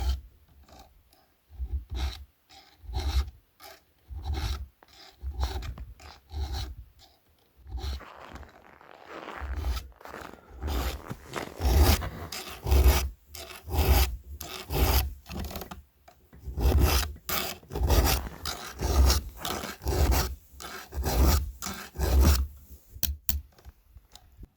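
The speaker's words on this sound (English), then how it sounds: "as Joe finishes up sharpening the chains on both saws" A file sharpens the chains of Husqvarna and Stihl chainsaws in quiet, rhythmic rasping strokes that come faster and more evenly as the clip goes on.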